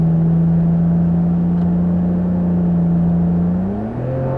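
A Lexus GS300 (S160) engine drones steadily under hard acceleration on a road test, then its pitch climbs sharply near the end, with no talking.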